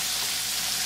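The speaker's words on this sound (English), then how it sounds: "chicken a fry in a foil tin" Chicken frying in a foil tin on the stove, a steady close hiss and sizzle with no break over the short span and no voices.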